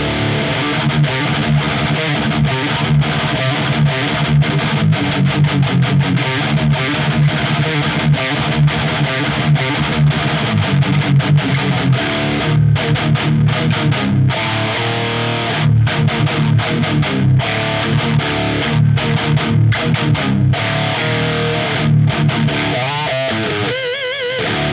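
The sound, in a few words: distorted electric guitar through Marshall JCM800 2203 Bad Boy amp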